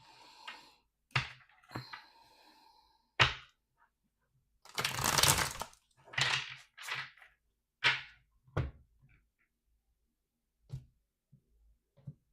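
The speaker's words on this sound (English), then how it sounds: "One more shuffle." Quick riffling bursts of tarot cards being shuffled, several separate flurries with brief pauses between them, close and quiet in an otherwise still room.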